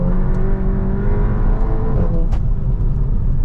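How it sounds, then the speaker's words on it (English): A Seat Leon Cupra car revs and accelerates with its wheels spinning, a loud, close, steady engine roar holding its pitch with a whine on top, and no talking. "sve ovo davanje gasa, do momenta do kad sam pustio gas, automobil je proklizavao"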